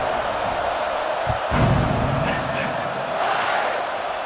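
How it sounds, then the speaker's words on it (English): A college football stadium crowd at LSU vs Texas keeps up a broad, steady roar after a touchdown, swelling briefly partway through, while a commentator talks over it. "this crowd is buzzing after that last score"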